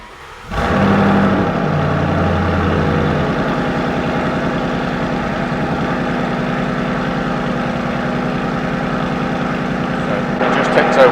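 A Mustang engine starts up and settles into a loud, steady, lumpy cold-start idle with a deep rumble, close by, with a brief rise near the end.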